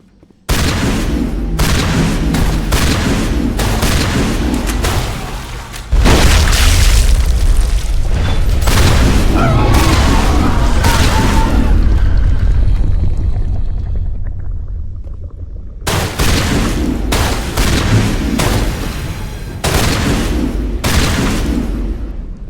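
Heavy gunfire and booming explosions fill a Mass Effect firefight, with repeated loud blasts and rumbling bursts, a brief lull, then more rapid shots.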